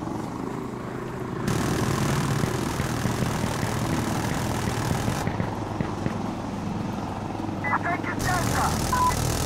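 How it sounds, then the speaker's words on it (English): A helicopter in the shooter game Insurgency Sandstorm drones steadily with a deep rotor and engine hum, rising louder for a stretch in the middle, while players talk over it. "Ba't pala dito tinawag yung helicopter?"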